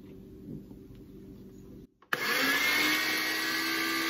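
A small food processor whirs loudly and steadily, blending garlic scape pesto as olive oil is drizzled in, starting abruptly after a quiet stretch of low hum and running continuously to the end.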